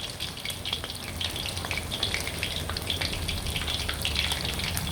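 Battered pork cartilage bones frying in hot oil, a steady dense crackle and hiss that holds evenly throughout at close range, with no talk.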